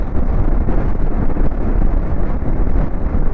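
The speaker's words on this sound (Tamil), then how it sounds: "செம்ம காத்தடிக்குது" Strong wind roars and buffets the microphone nonstop at Dhanushkodi near Rameshwaram, a loud, dense rush with no voices over it.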